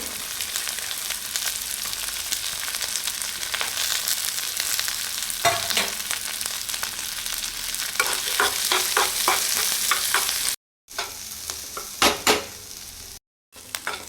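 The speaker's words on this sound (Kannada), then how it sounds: "ಎಣ್ಣೆ ಹಾಕಿ ಈರುಳ್ಳಿನ ಚೆನ್ನಾಗಿ ಹುರ್ಕೋಬೇಕು ತುಂಬ ಚೆನ್ನಾಗಿ ಹುರ್ಕೋಬೇಕು ಈರುಳ್ಳಿ ಬೆಳ್ಳುಳ್ಳಿ" Onion and garlic frying in oil, a dense steady sizzle with quick rhythmic stirring scrapes building toward the end, cut by two short silent gaps.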